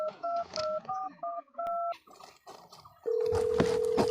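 A telephone is dialed with a quick run of paired keypad beeps. A short pause with faint background noise follows, then a steady continuous tone comes on under a noisy stage-show crowd.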